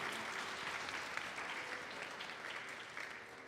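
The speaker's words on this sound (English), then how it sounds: "I want to wish Dinesh a happy, happy birthday today. Please clap for him." Applause for a birthday ripples through an audience at a Vasant Navratri gathering, a steady patter of many hands clapping for several seconds without voices.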